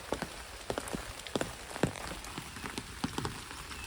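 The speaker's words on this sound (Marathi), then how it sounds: "तर मित्रांनो परत एकदा पावसानं जोर वाढवला आहे" Rain falls steadily outdoors near a stream, a constant wash of hiss broken by scattered sharper drops, with no voices.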